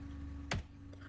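A single faint, quick tap of the Enter key on a computer keyboard sounds once over a low, steady background hum.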